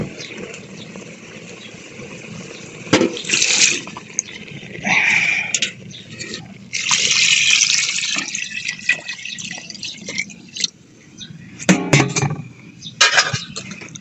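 Water is poured into a pot for papaitan soup, splashing and gurgling in uneven bursts with louder spurts between quieter trickling, close by in a kitchen.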